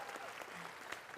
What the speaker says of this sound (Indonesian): Tepuk tangan dulu untuk Pak Jokowi.